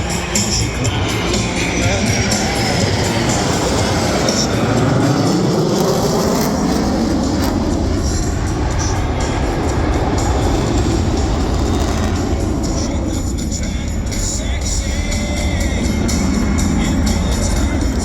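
Two EA-18G Growler jets fly a dual Cobra maneuver at an air show in Tennessee, their loud broadband engine roar sweeping continuously past with a shifting pitch, with crowd noise and a public-address voice underneath.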